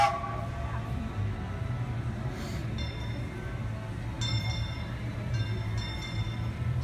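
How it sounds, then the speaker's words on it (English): A Disneyland Railroad train at Disneyland in Anaheim, California, pulls into the station at night with a steady rumble and rolling clatter, plus a few high squeals and metallic rings over a busy park background. "So as the Disneyland Railroad pulls into the station"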